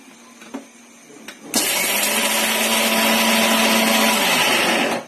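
A kitchen mixer grinder pulverises roasted spices with dried red chillies and chilli powder into a powder; after a few faint knocks, the motor starts abruptly and roars loud and steady for about three and a half seconds before cutting off.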